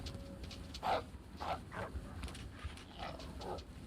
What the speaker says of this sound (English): I also heard a wolf bark